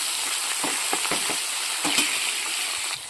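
Dried fish frying in hot oil for a chapala curry, a steady close sizzle with scattered crackles and light stirring taps throughout, no voices.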